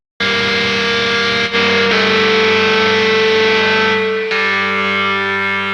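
Heavily distorted guitar tone passed through the Nolly guitar amp plugin in Cubase, set to low gain with strong midrange. It holds as a loud, thick sustained chord for about four seconds, briefly dips, then is struck again.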